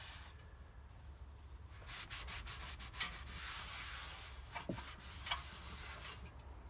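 Scraping and wiping of old gasket debris and grime from the flange and inside of a transmission pan, a steady close rubbing texture with a few sharper scrapes, no voices.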